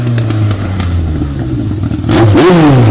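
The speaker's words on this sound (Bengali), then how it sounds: "ওয়াও গাইস দেখো, এটি হলো একটি মোটর বাইক।" A toy motorbike's engine noise revs and whines in rising, warbling pitch sweeps, loud and close, with a sharper surge near the end and no one talking.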